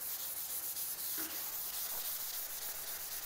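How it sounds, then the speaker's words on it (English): Rusty bare steel from an HZ Holden being scrubbed with a phosphate treatment, a steady close abrasive rubbing that runs unbroken throughout with no voices. "Start giving it a bit of a scrub."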